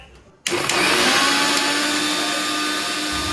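An electric mixer grinder starts abruptly and whirs loudly and steadily, grinding dry coconut and poppy seeds with no other sounds.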